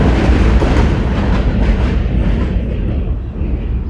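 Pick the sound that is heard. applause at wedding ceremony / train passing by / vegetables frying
train passing by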